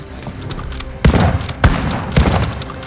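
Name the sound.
gunfire in video game Call of Duty Warzone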